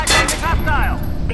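A short, sharp burst of gunfire from the video game Splinter Cell Blacklist, a few loud cracks packed into about a second, with a voice briefly sounding over it.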